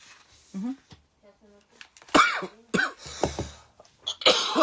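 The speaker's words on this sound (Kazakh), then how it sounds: "Жөтелгенде тұрған ештеңе жоқ." A person coughs several times in sharp, loud bursts close to the microphone, with faint voice sounds between the coughs.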